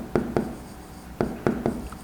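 A marker taps and scratches on a classroom board in five short, separate strokes during a mechanical engineering lecture on gears. The sounds are close and fairly quiet.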